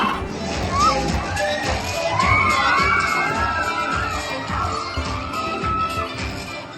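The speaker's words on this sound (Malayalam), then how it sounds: "ഫൈനലി ഞങ്ങളുടെ ടീം ജയിച്ചതിൻ്റെ അലർച്ചയാണ് ഞാൻ കേൾക്കുന്നത്." A large college crowd cheers and shouts continuously for a team victory, loud and close, with high excited children's voices rising above the roar.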